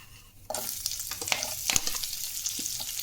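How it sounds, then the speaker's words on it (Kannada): Chopped onion dropped into hot oil in a pan for a broccoli palya, hitting with a sudden sizzle that continues as steady crackling frying, close and fairly loud, with a few stirring scrapes. "ಈರುಳ್ಳಿನ ನಾವು ಫ್ರೈ ಮಾಡ್ಕೊಳ್ಳೋಣ"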